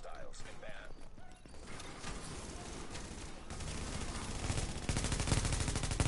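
Rapid gunfire from The Division, a dense sustained burst that grows louder and busier toward the end, mixed with mechanical clatter.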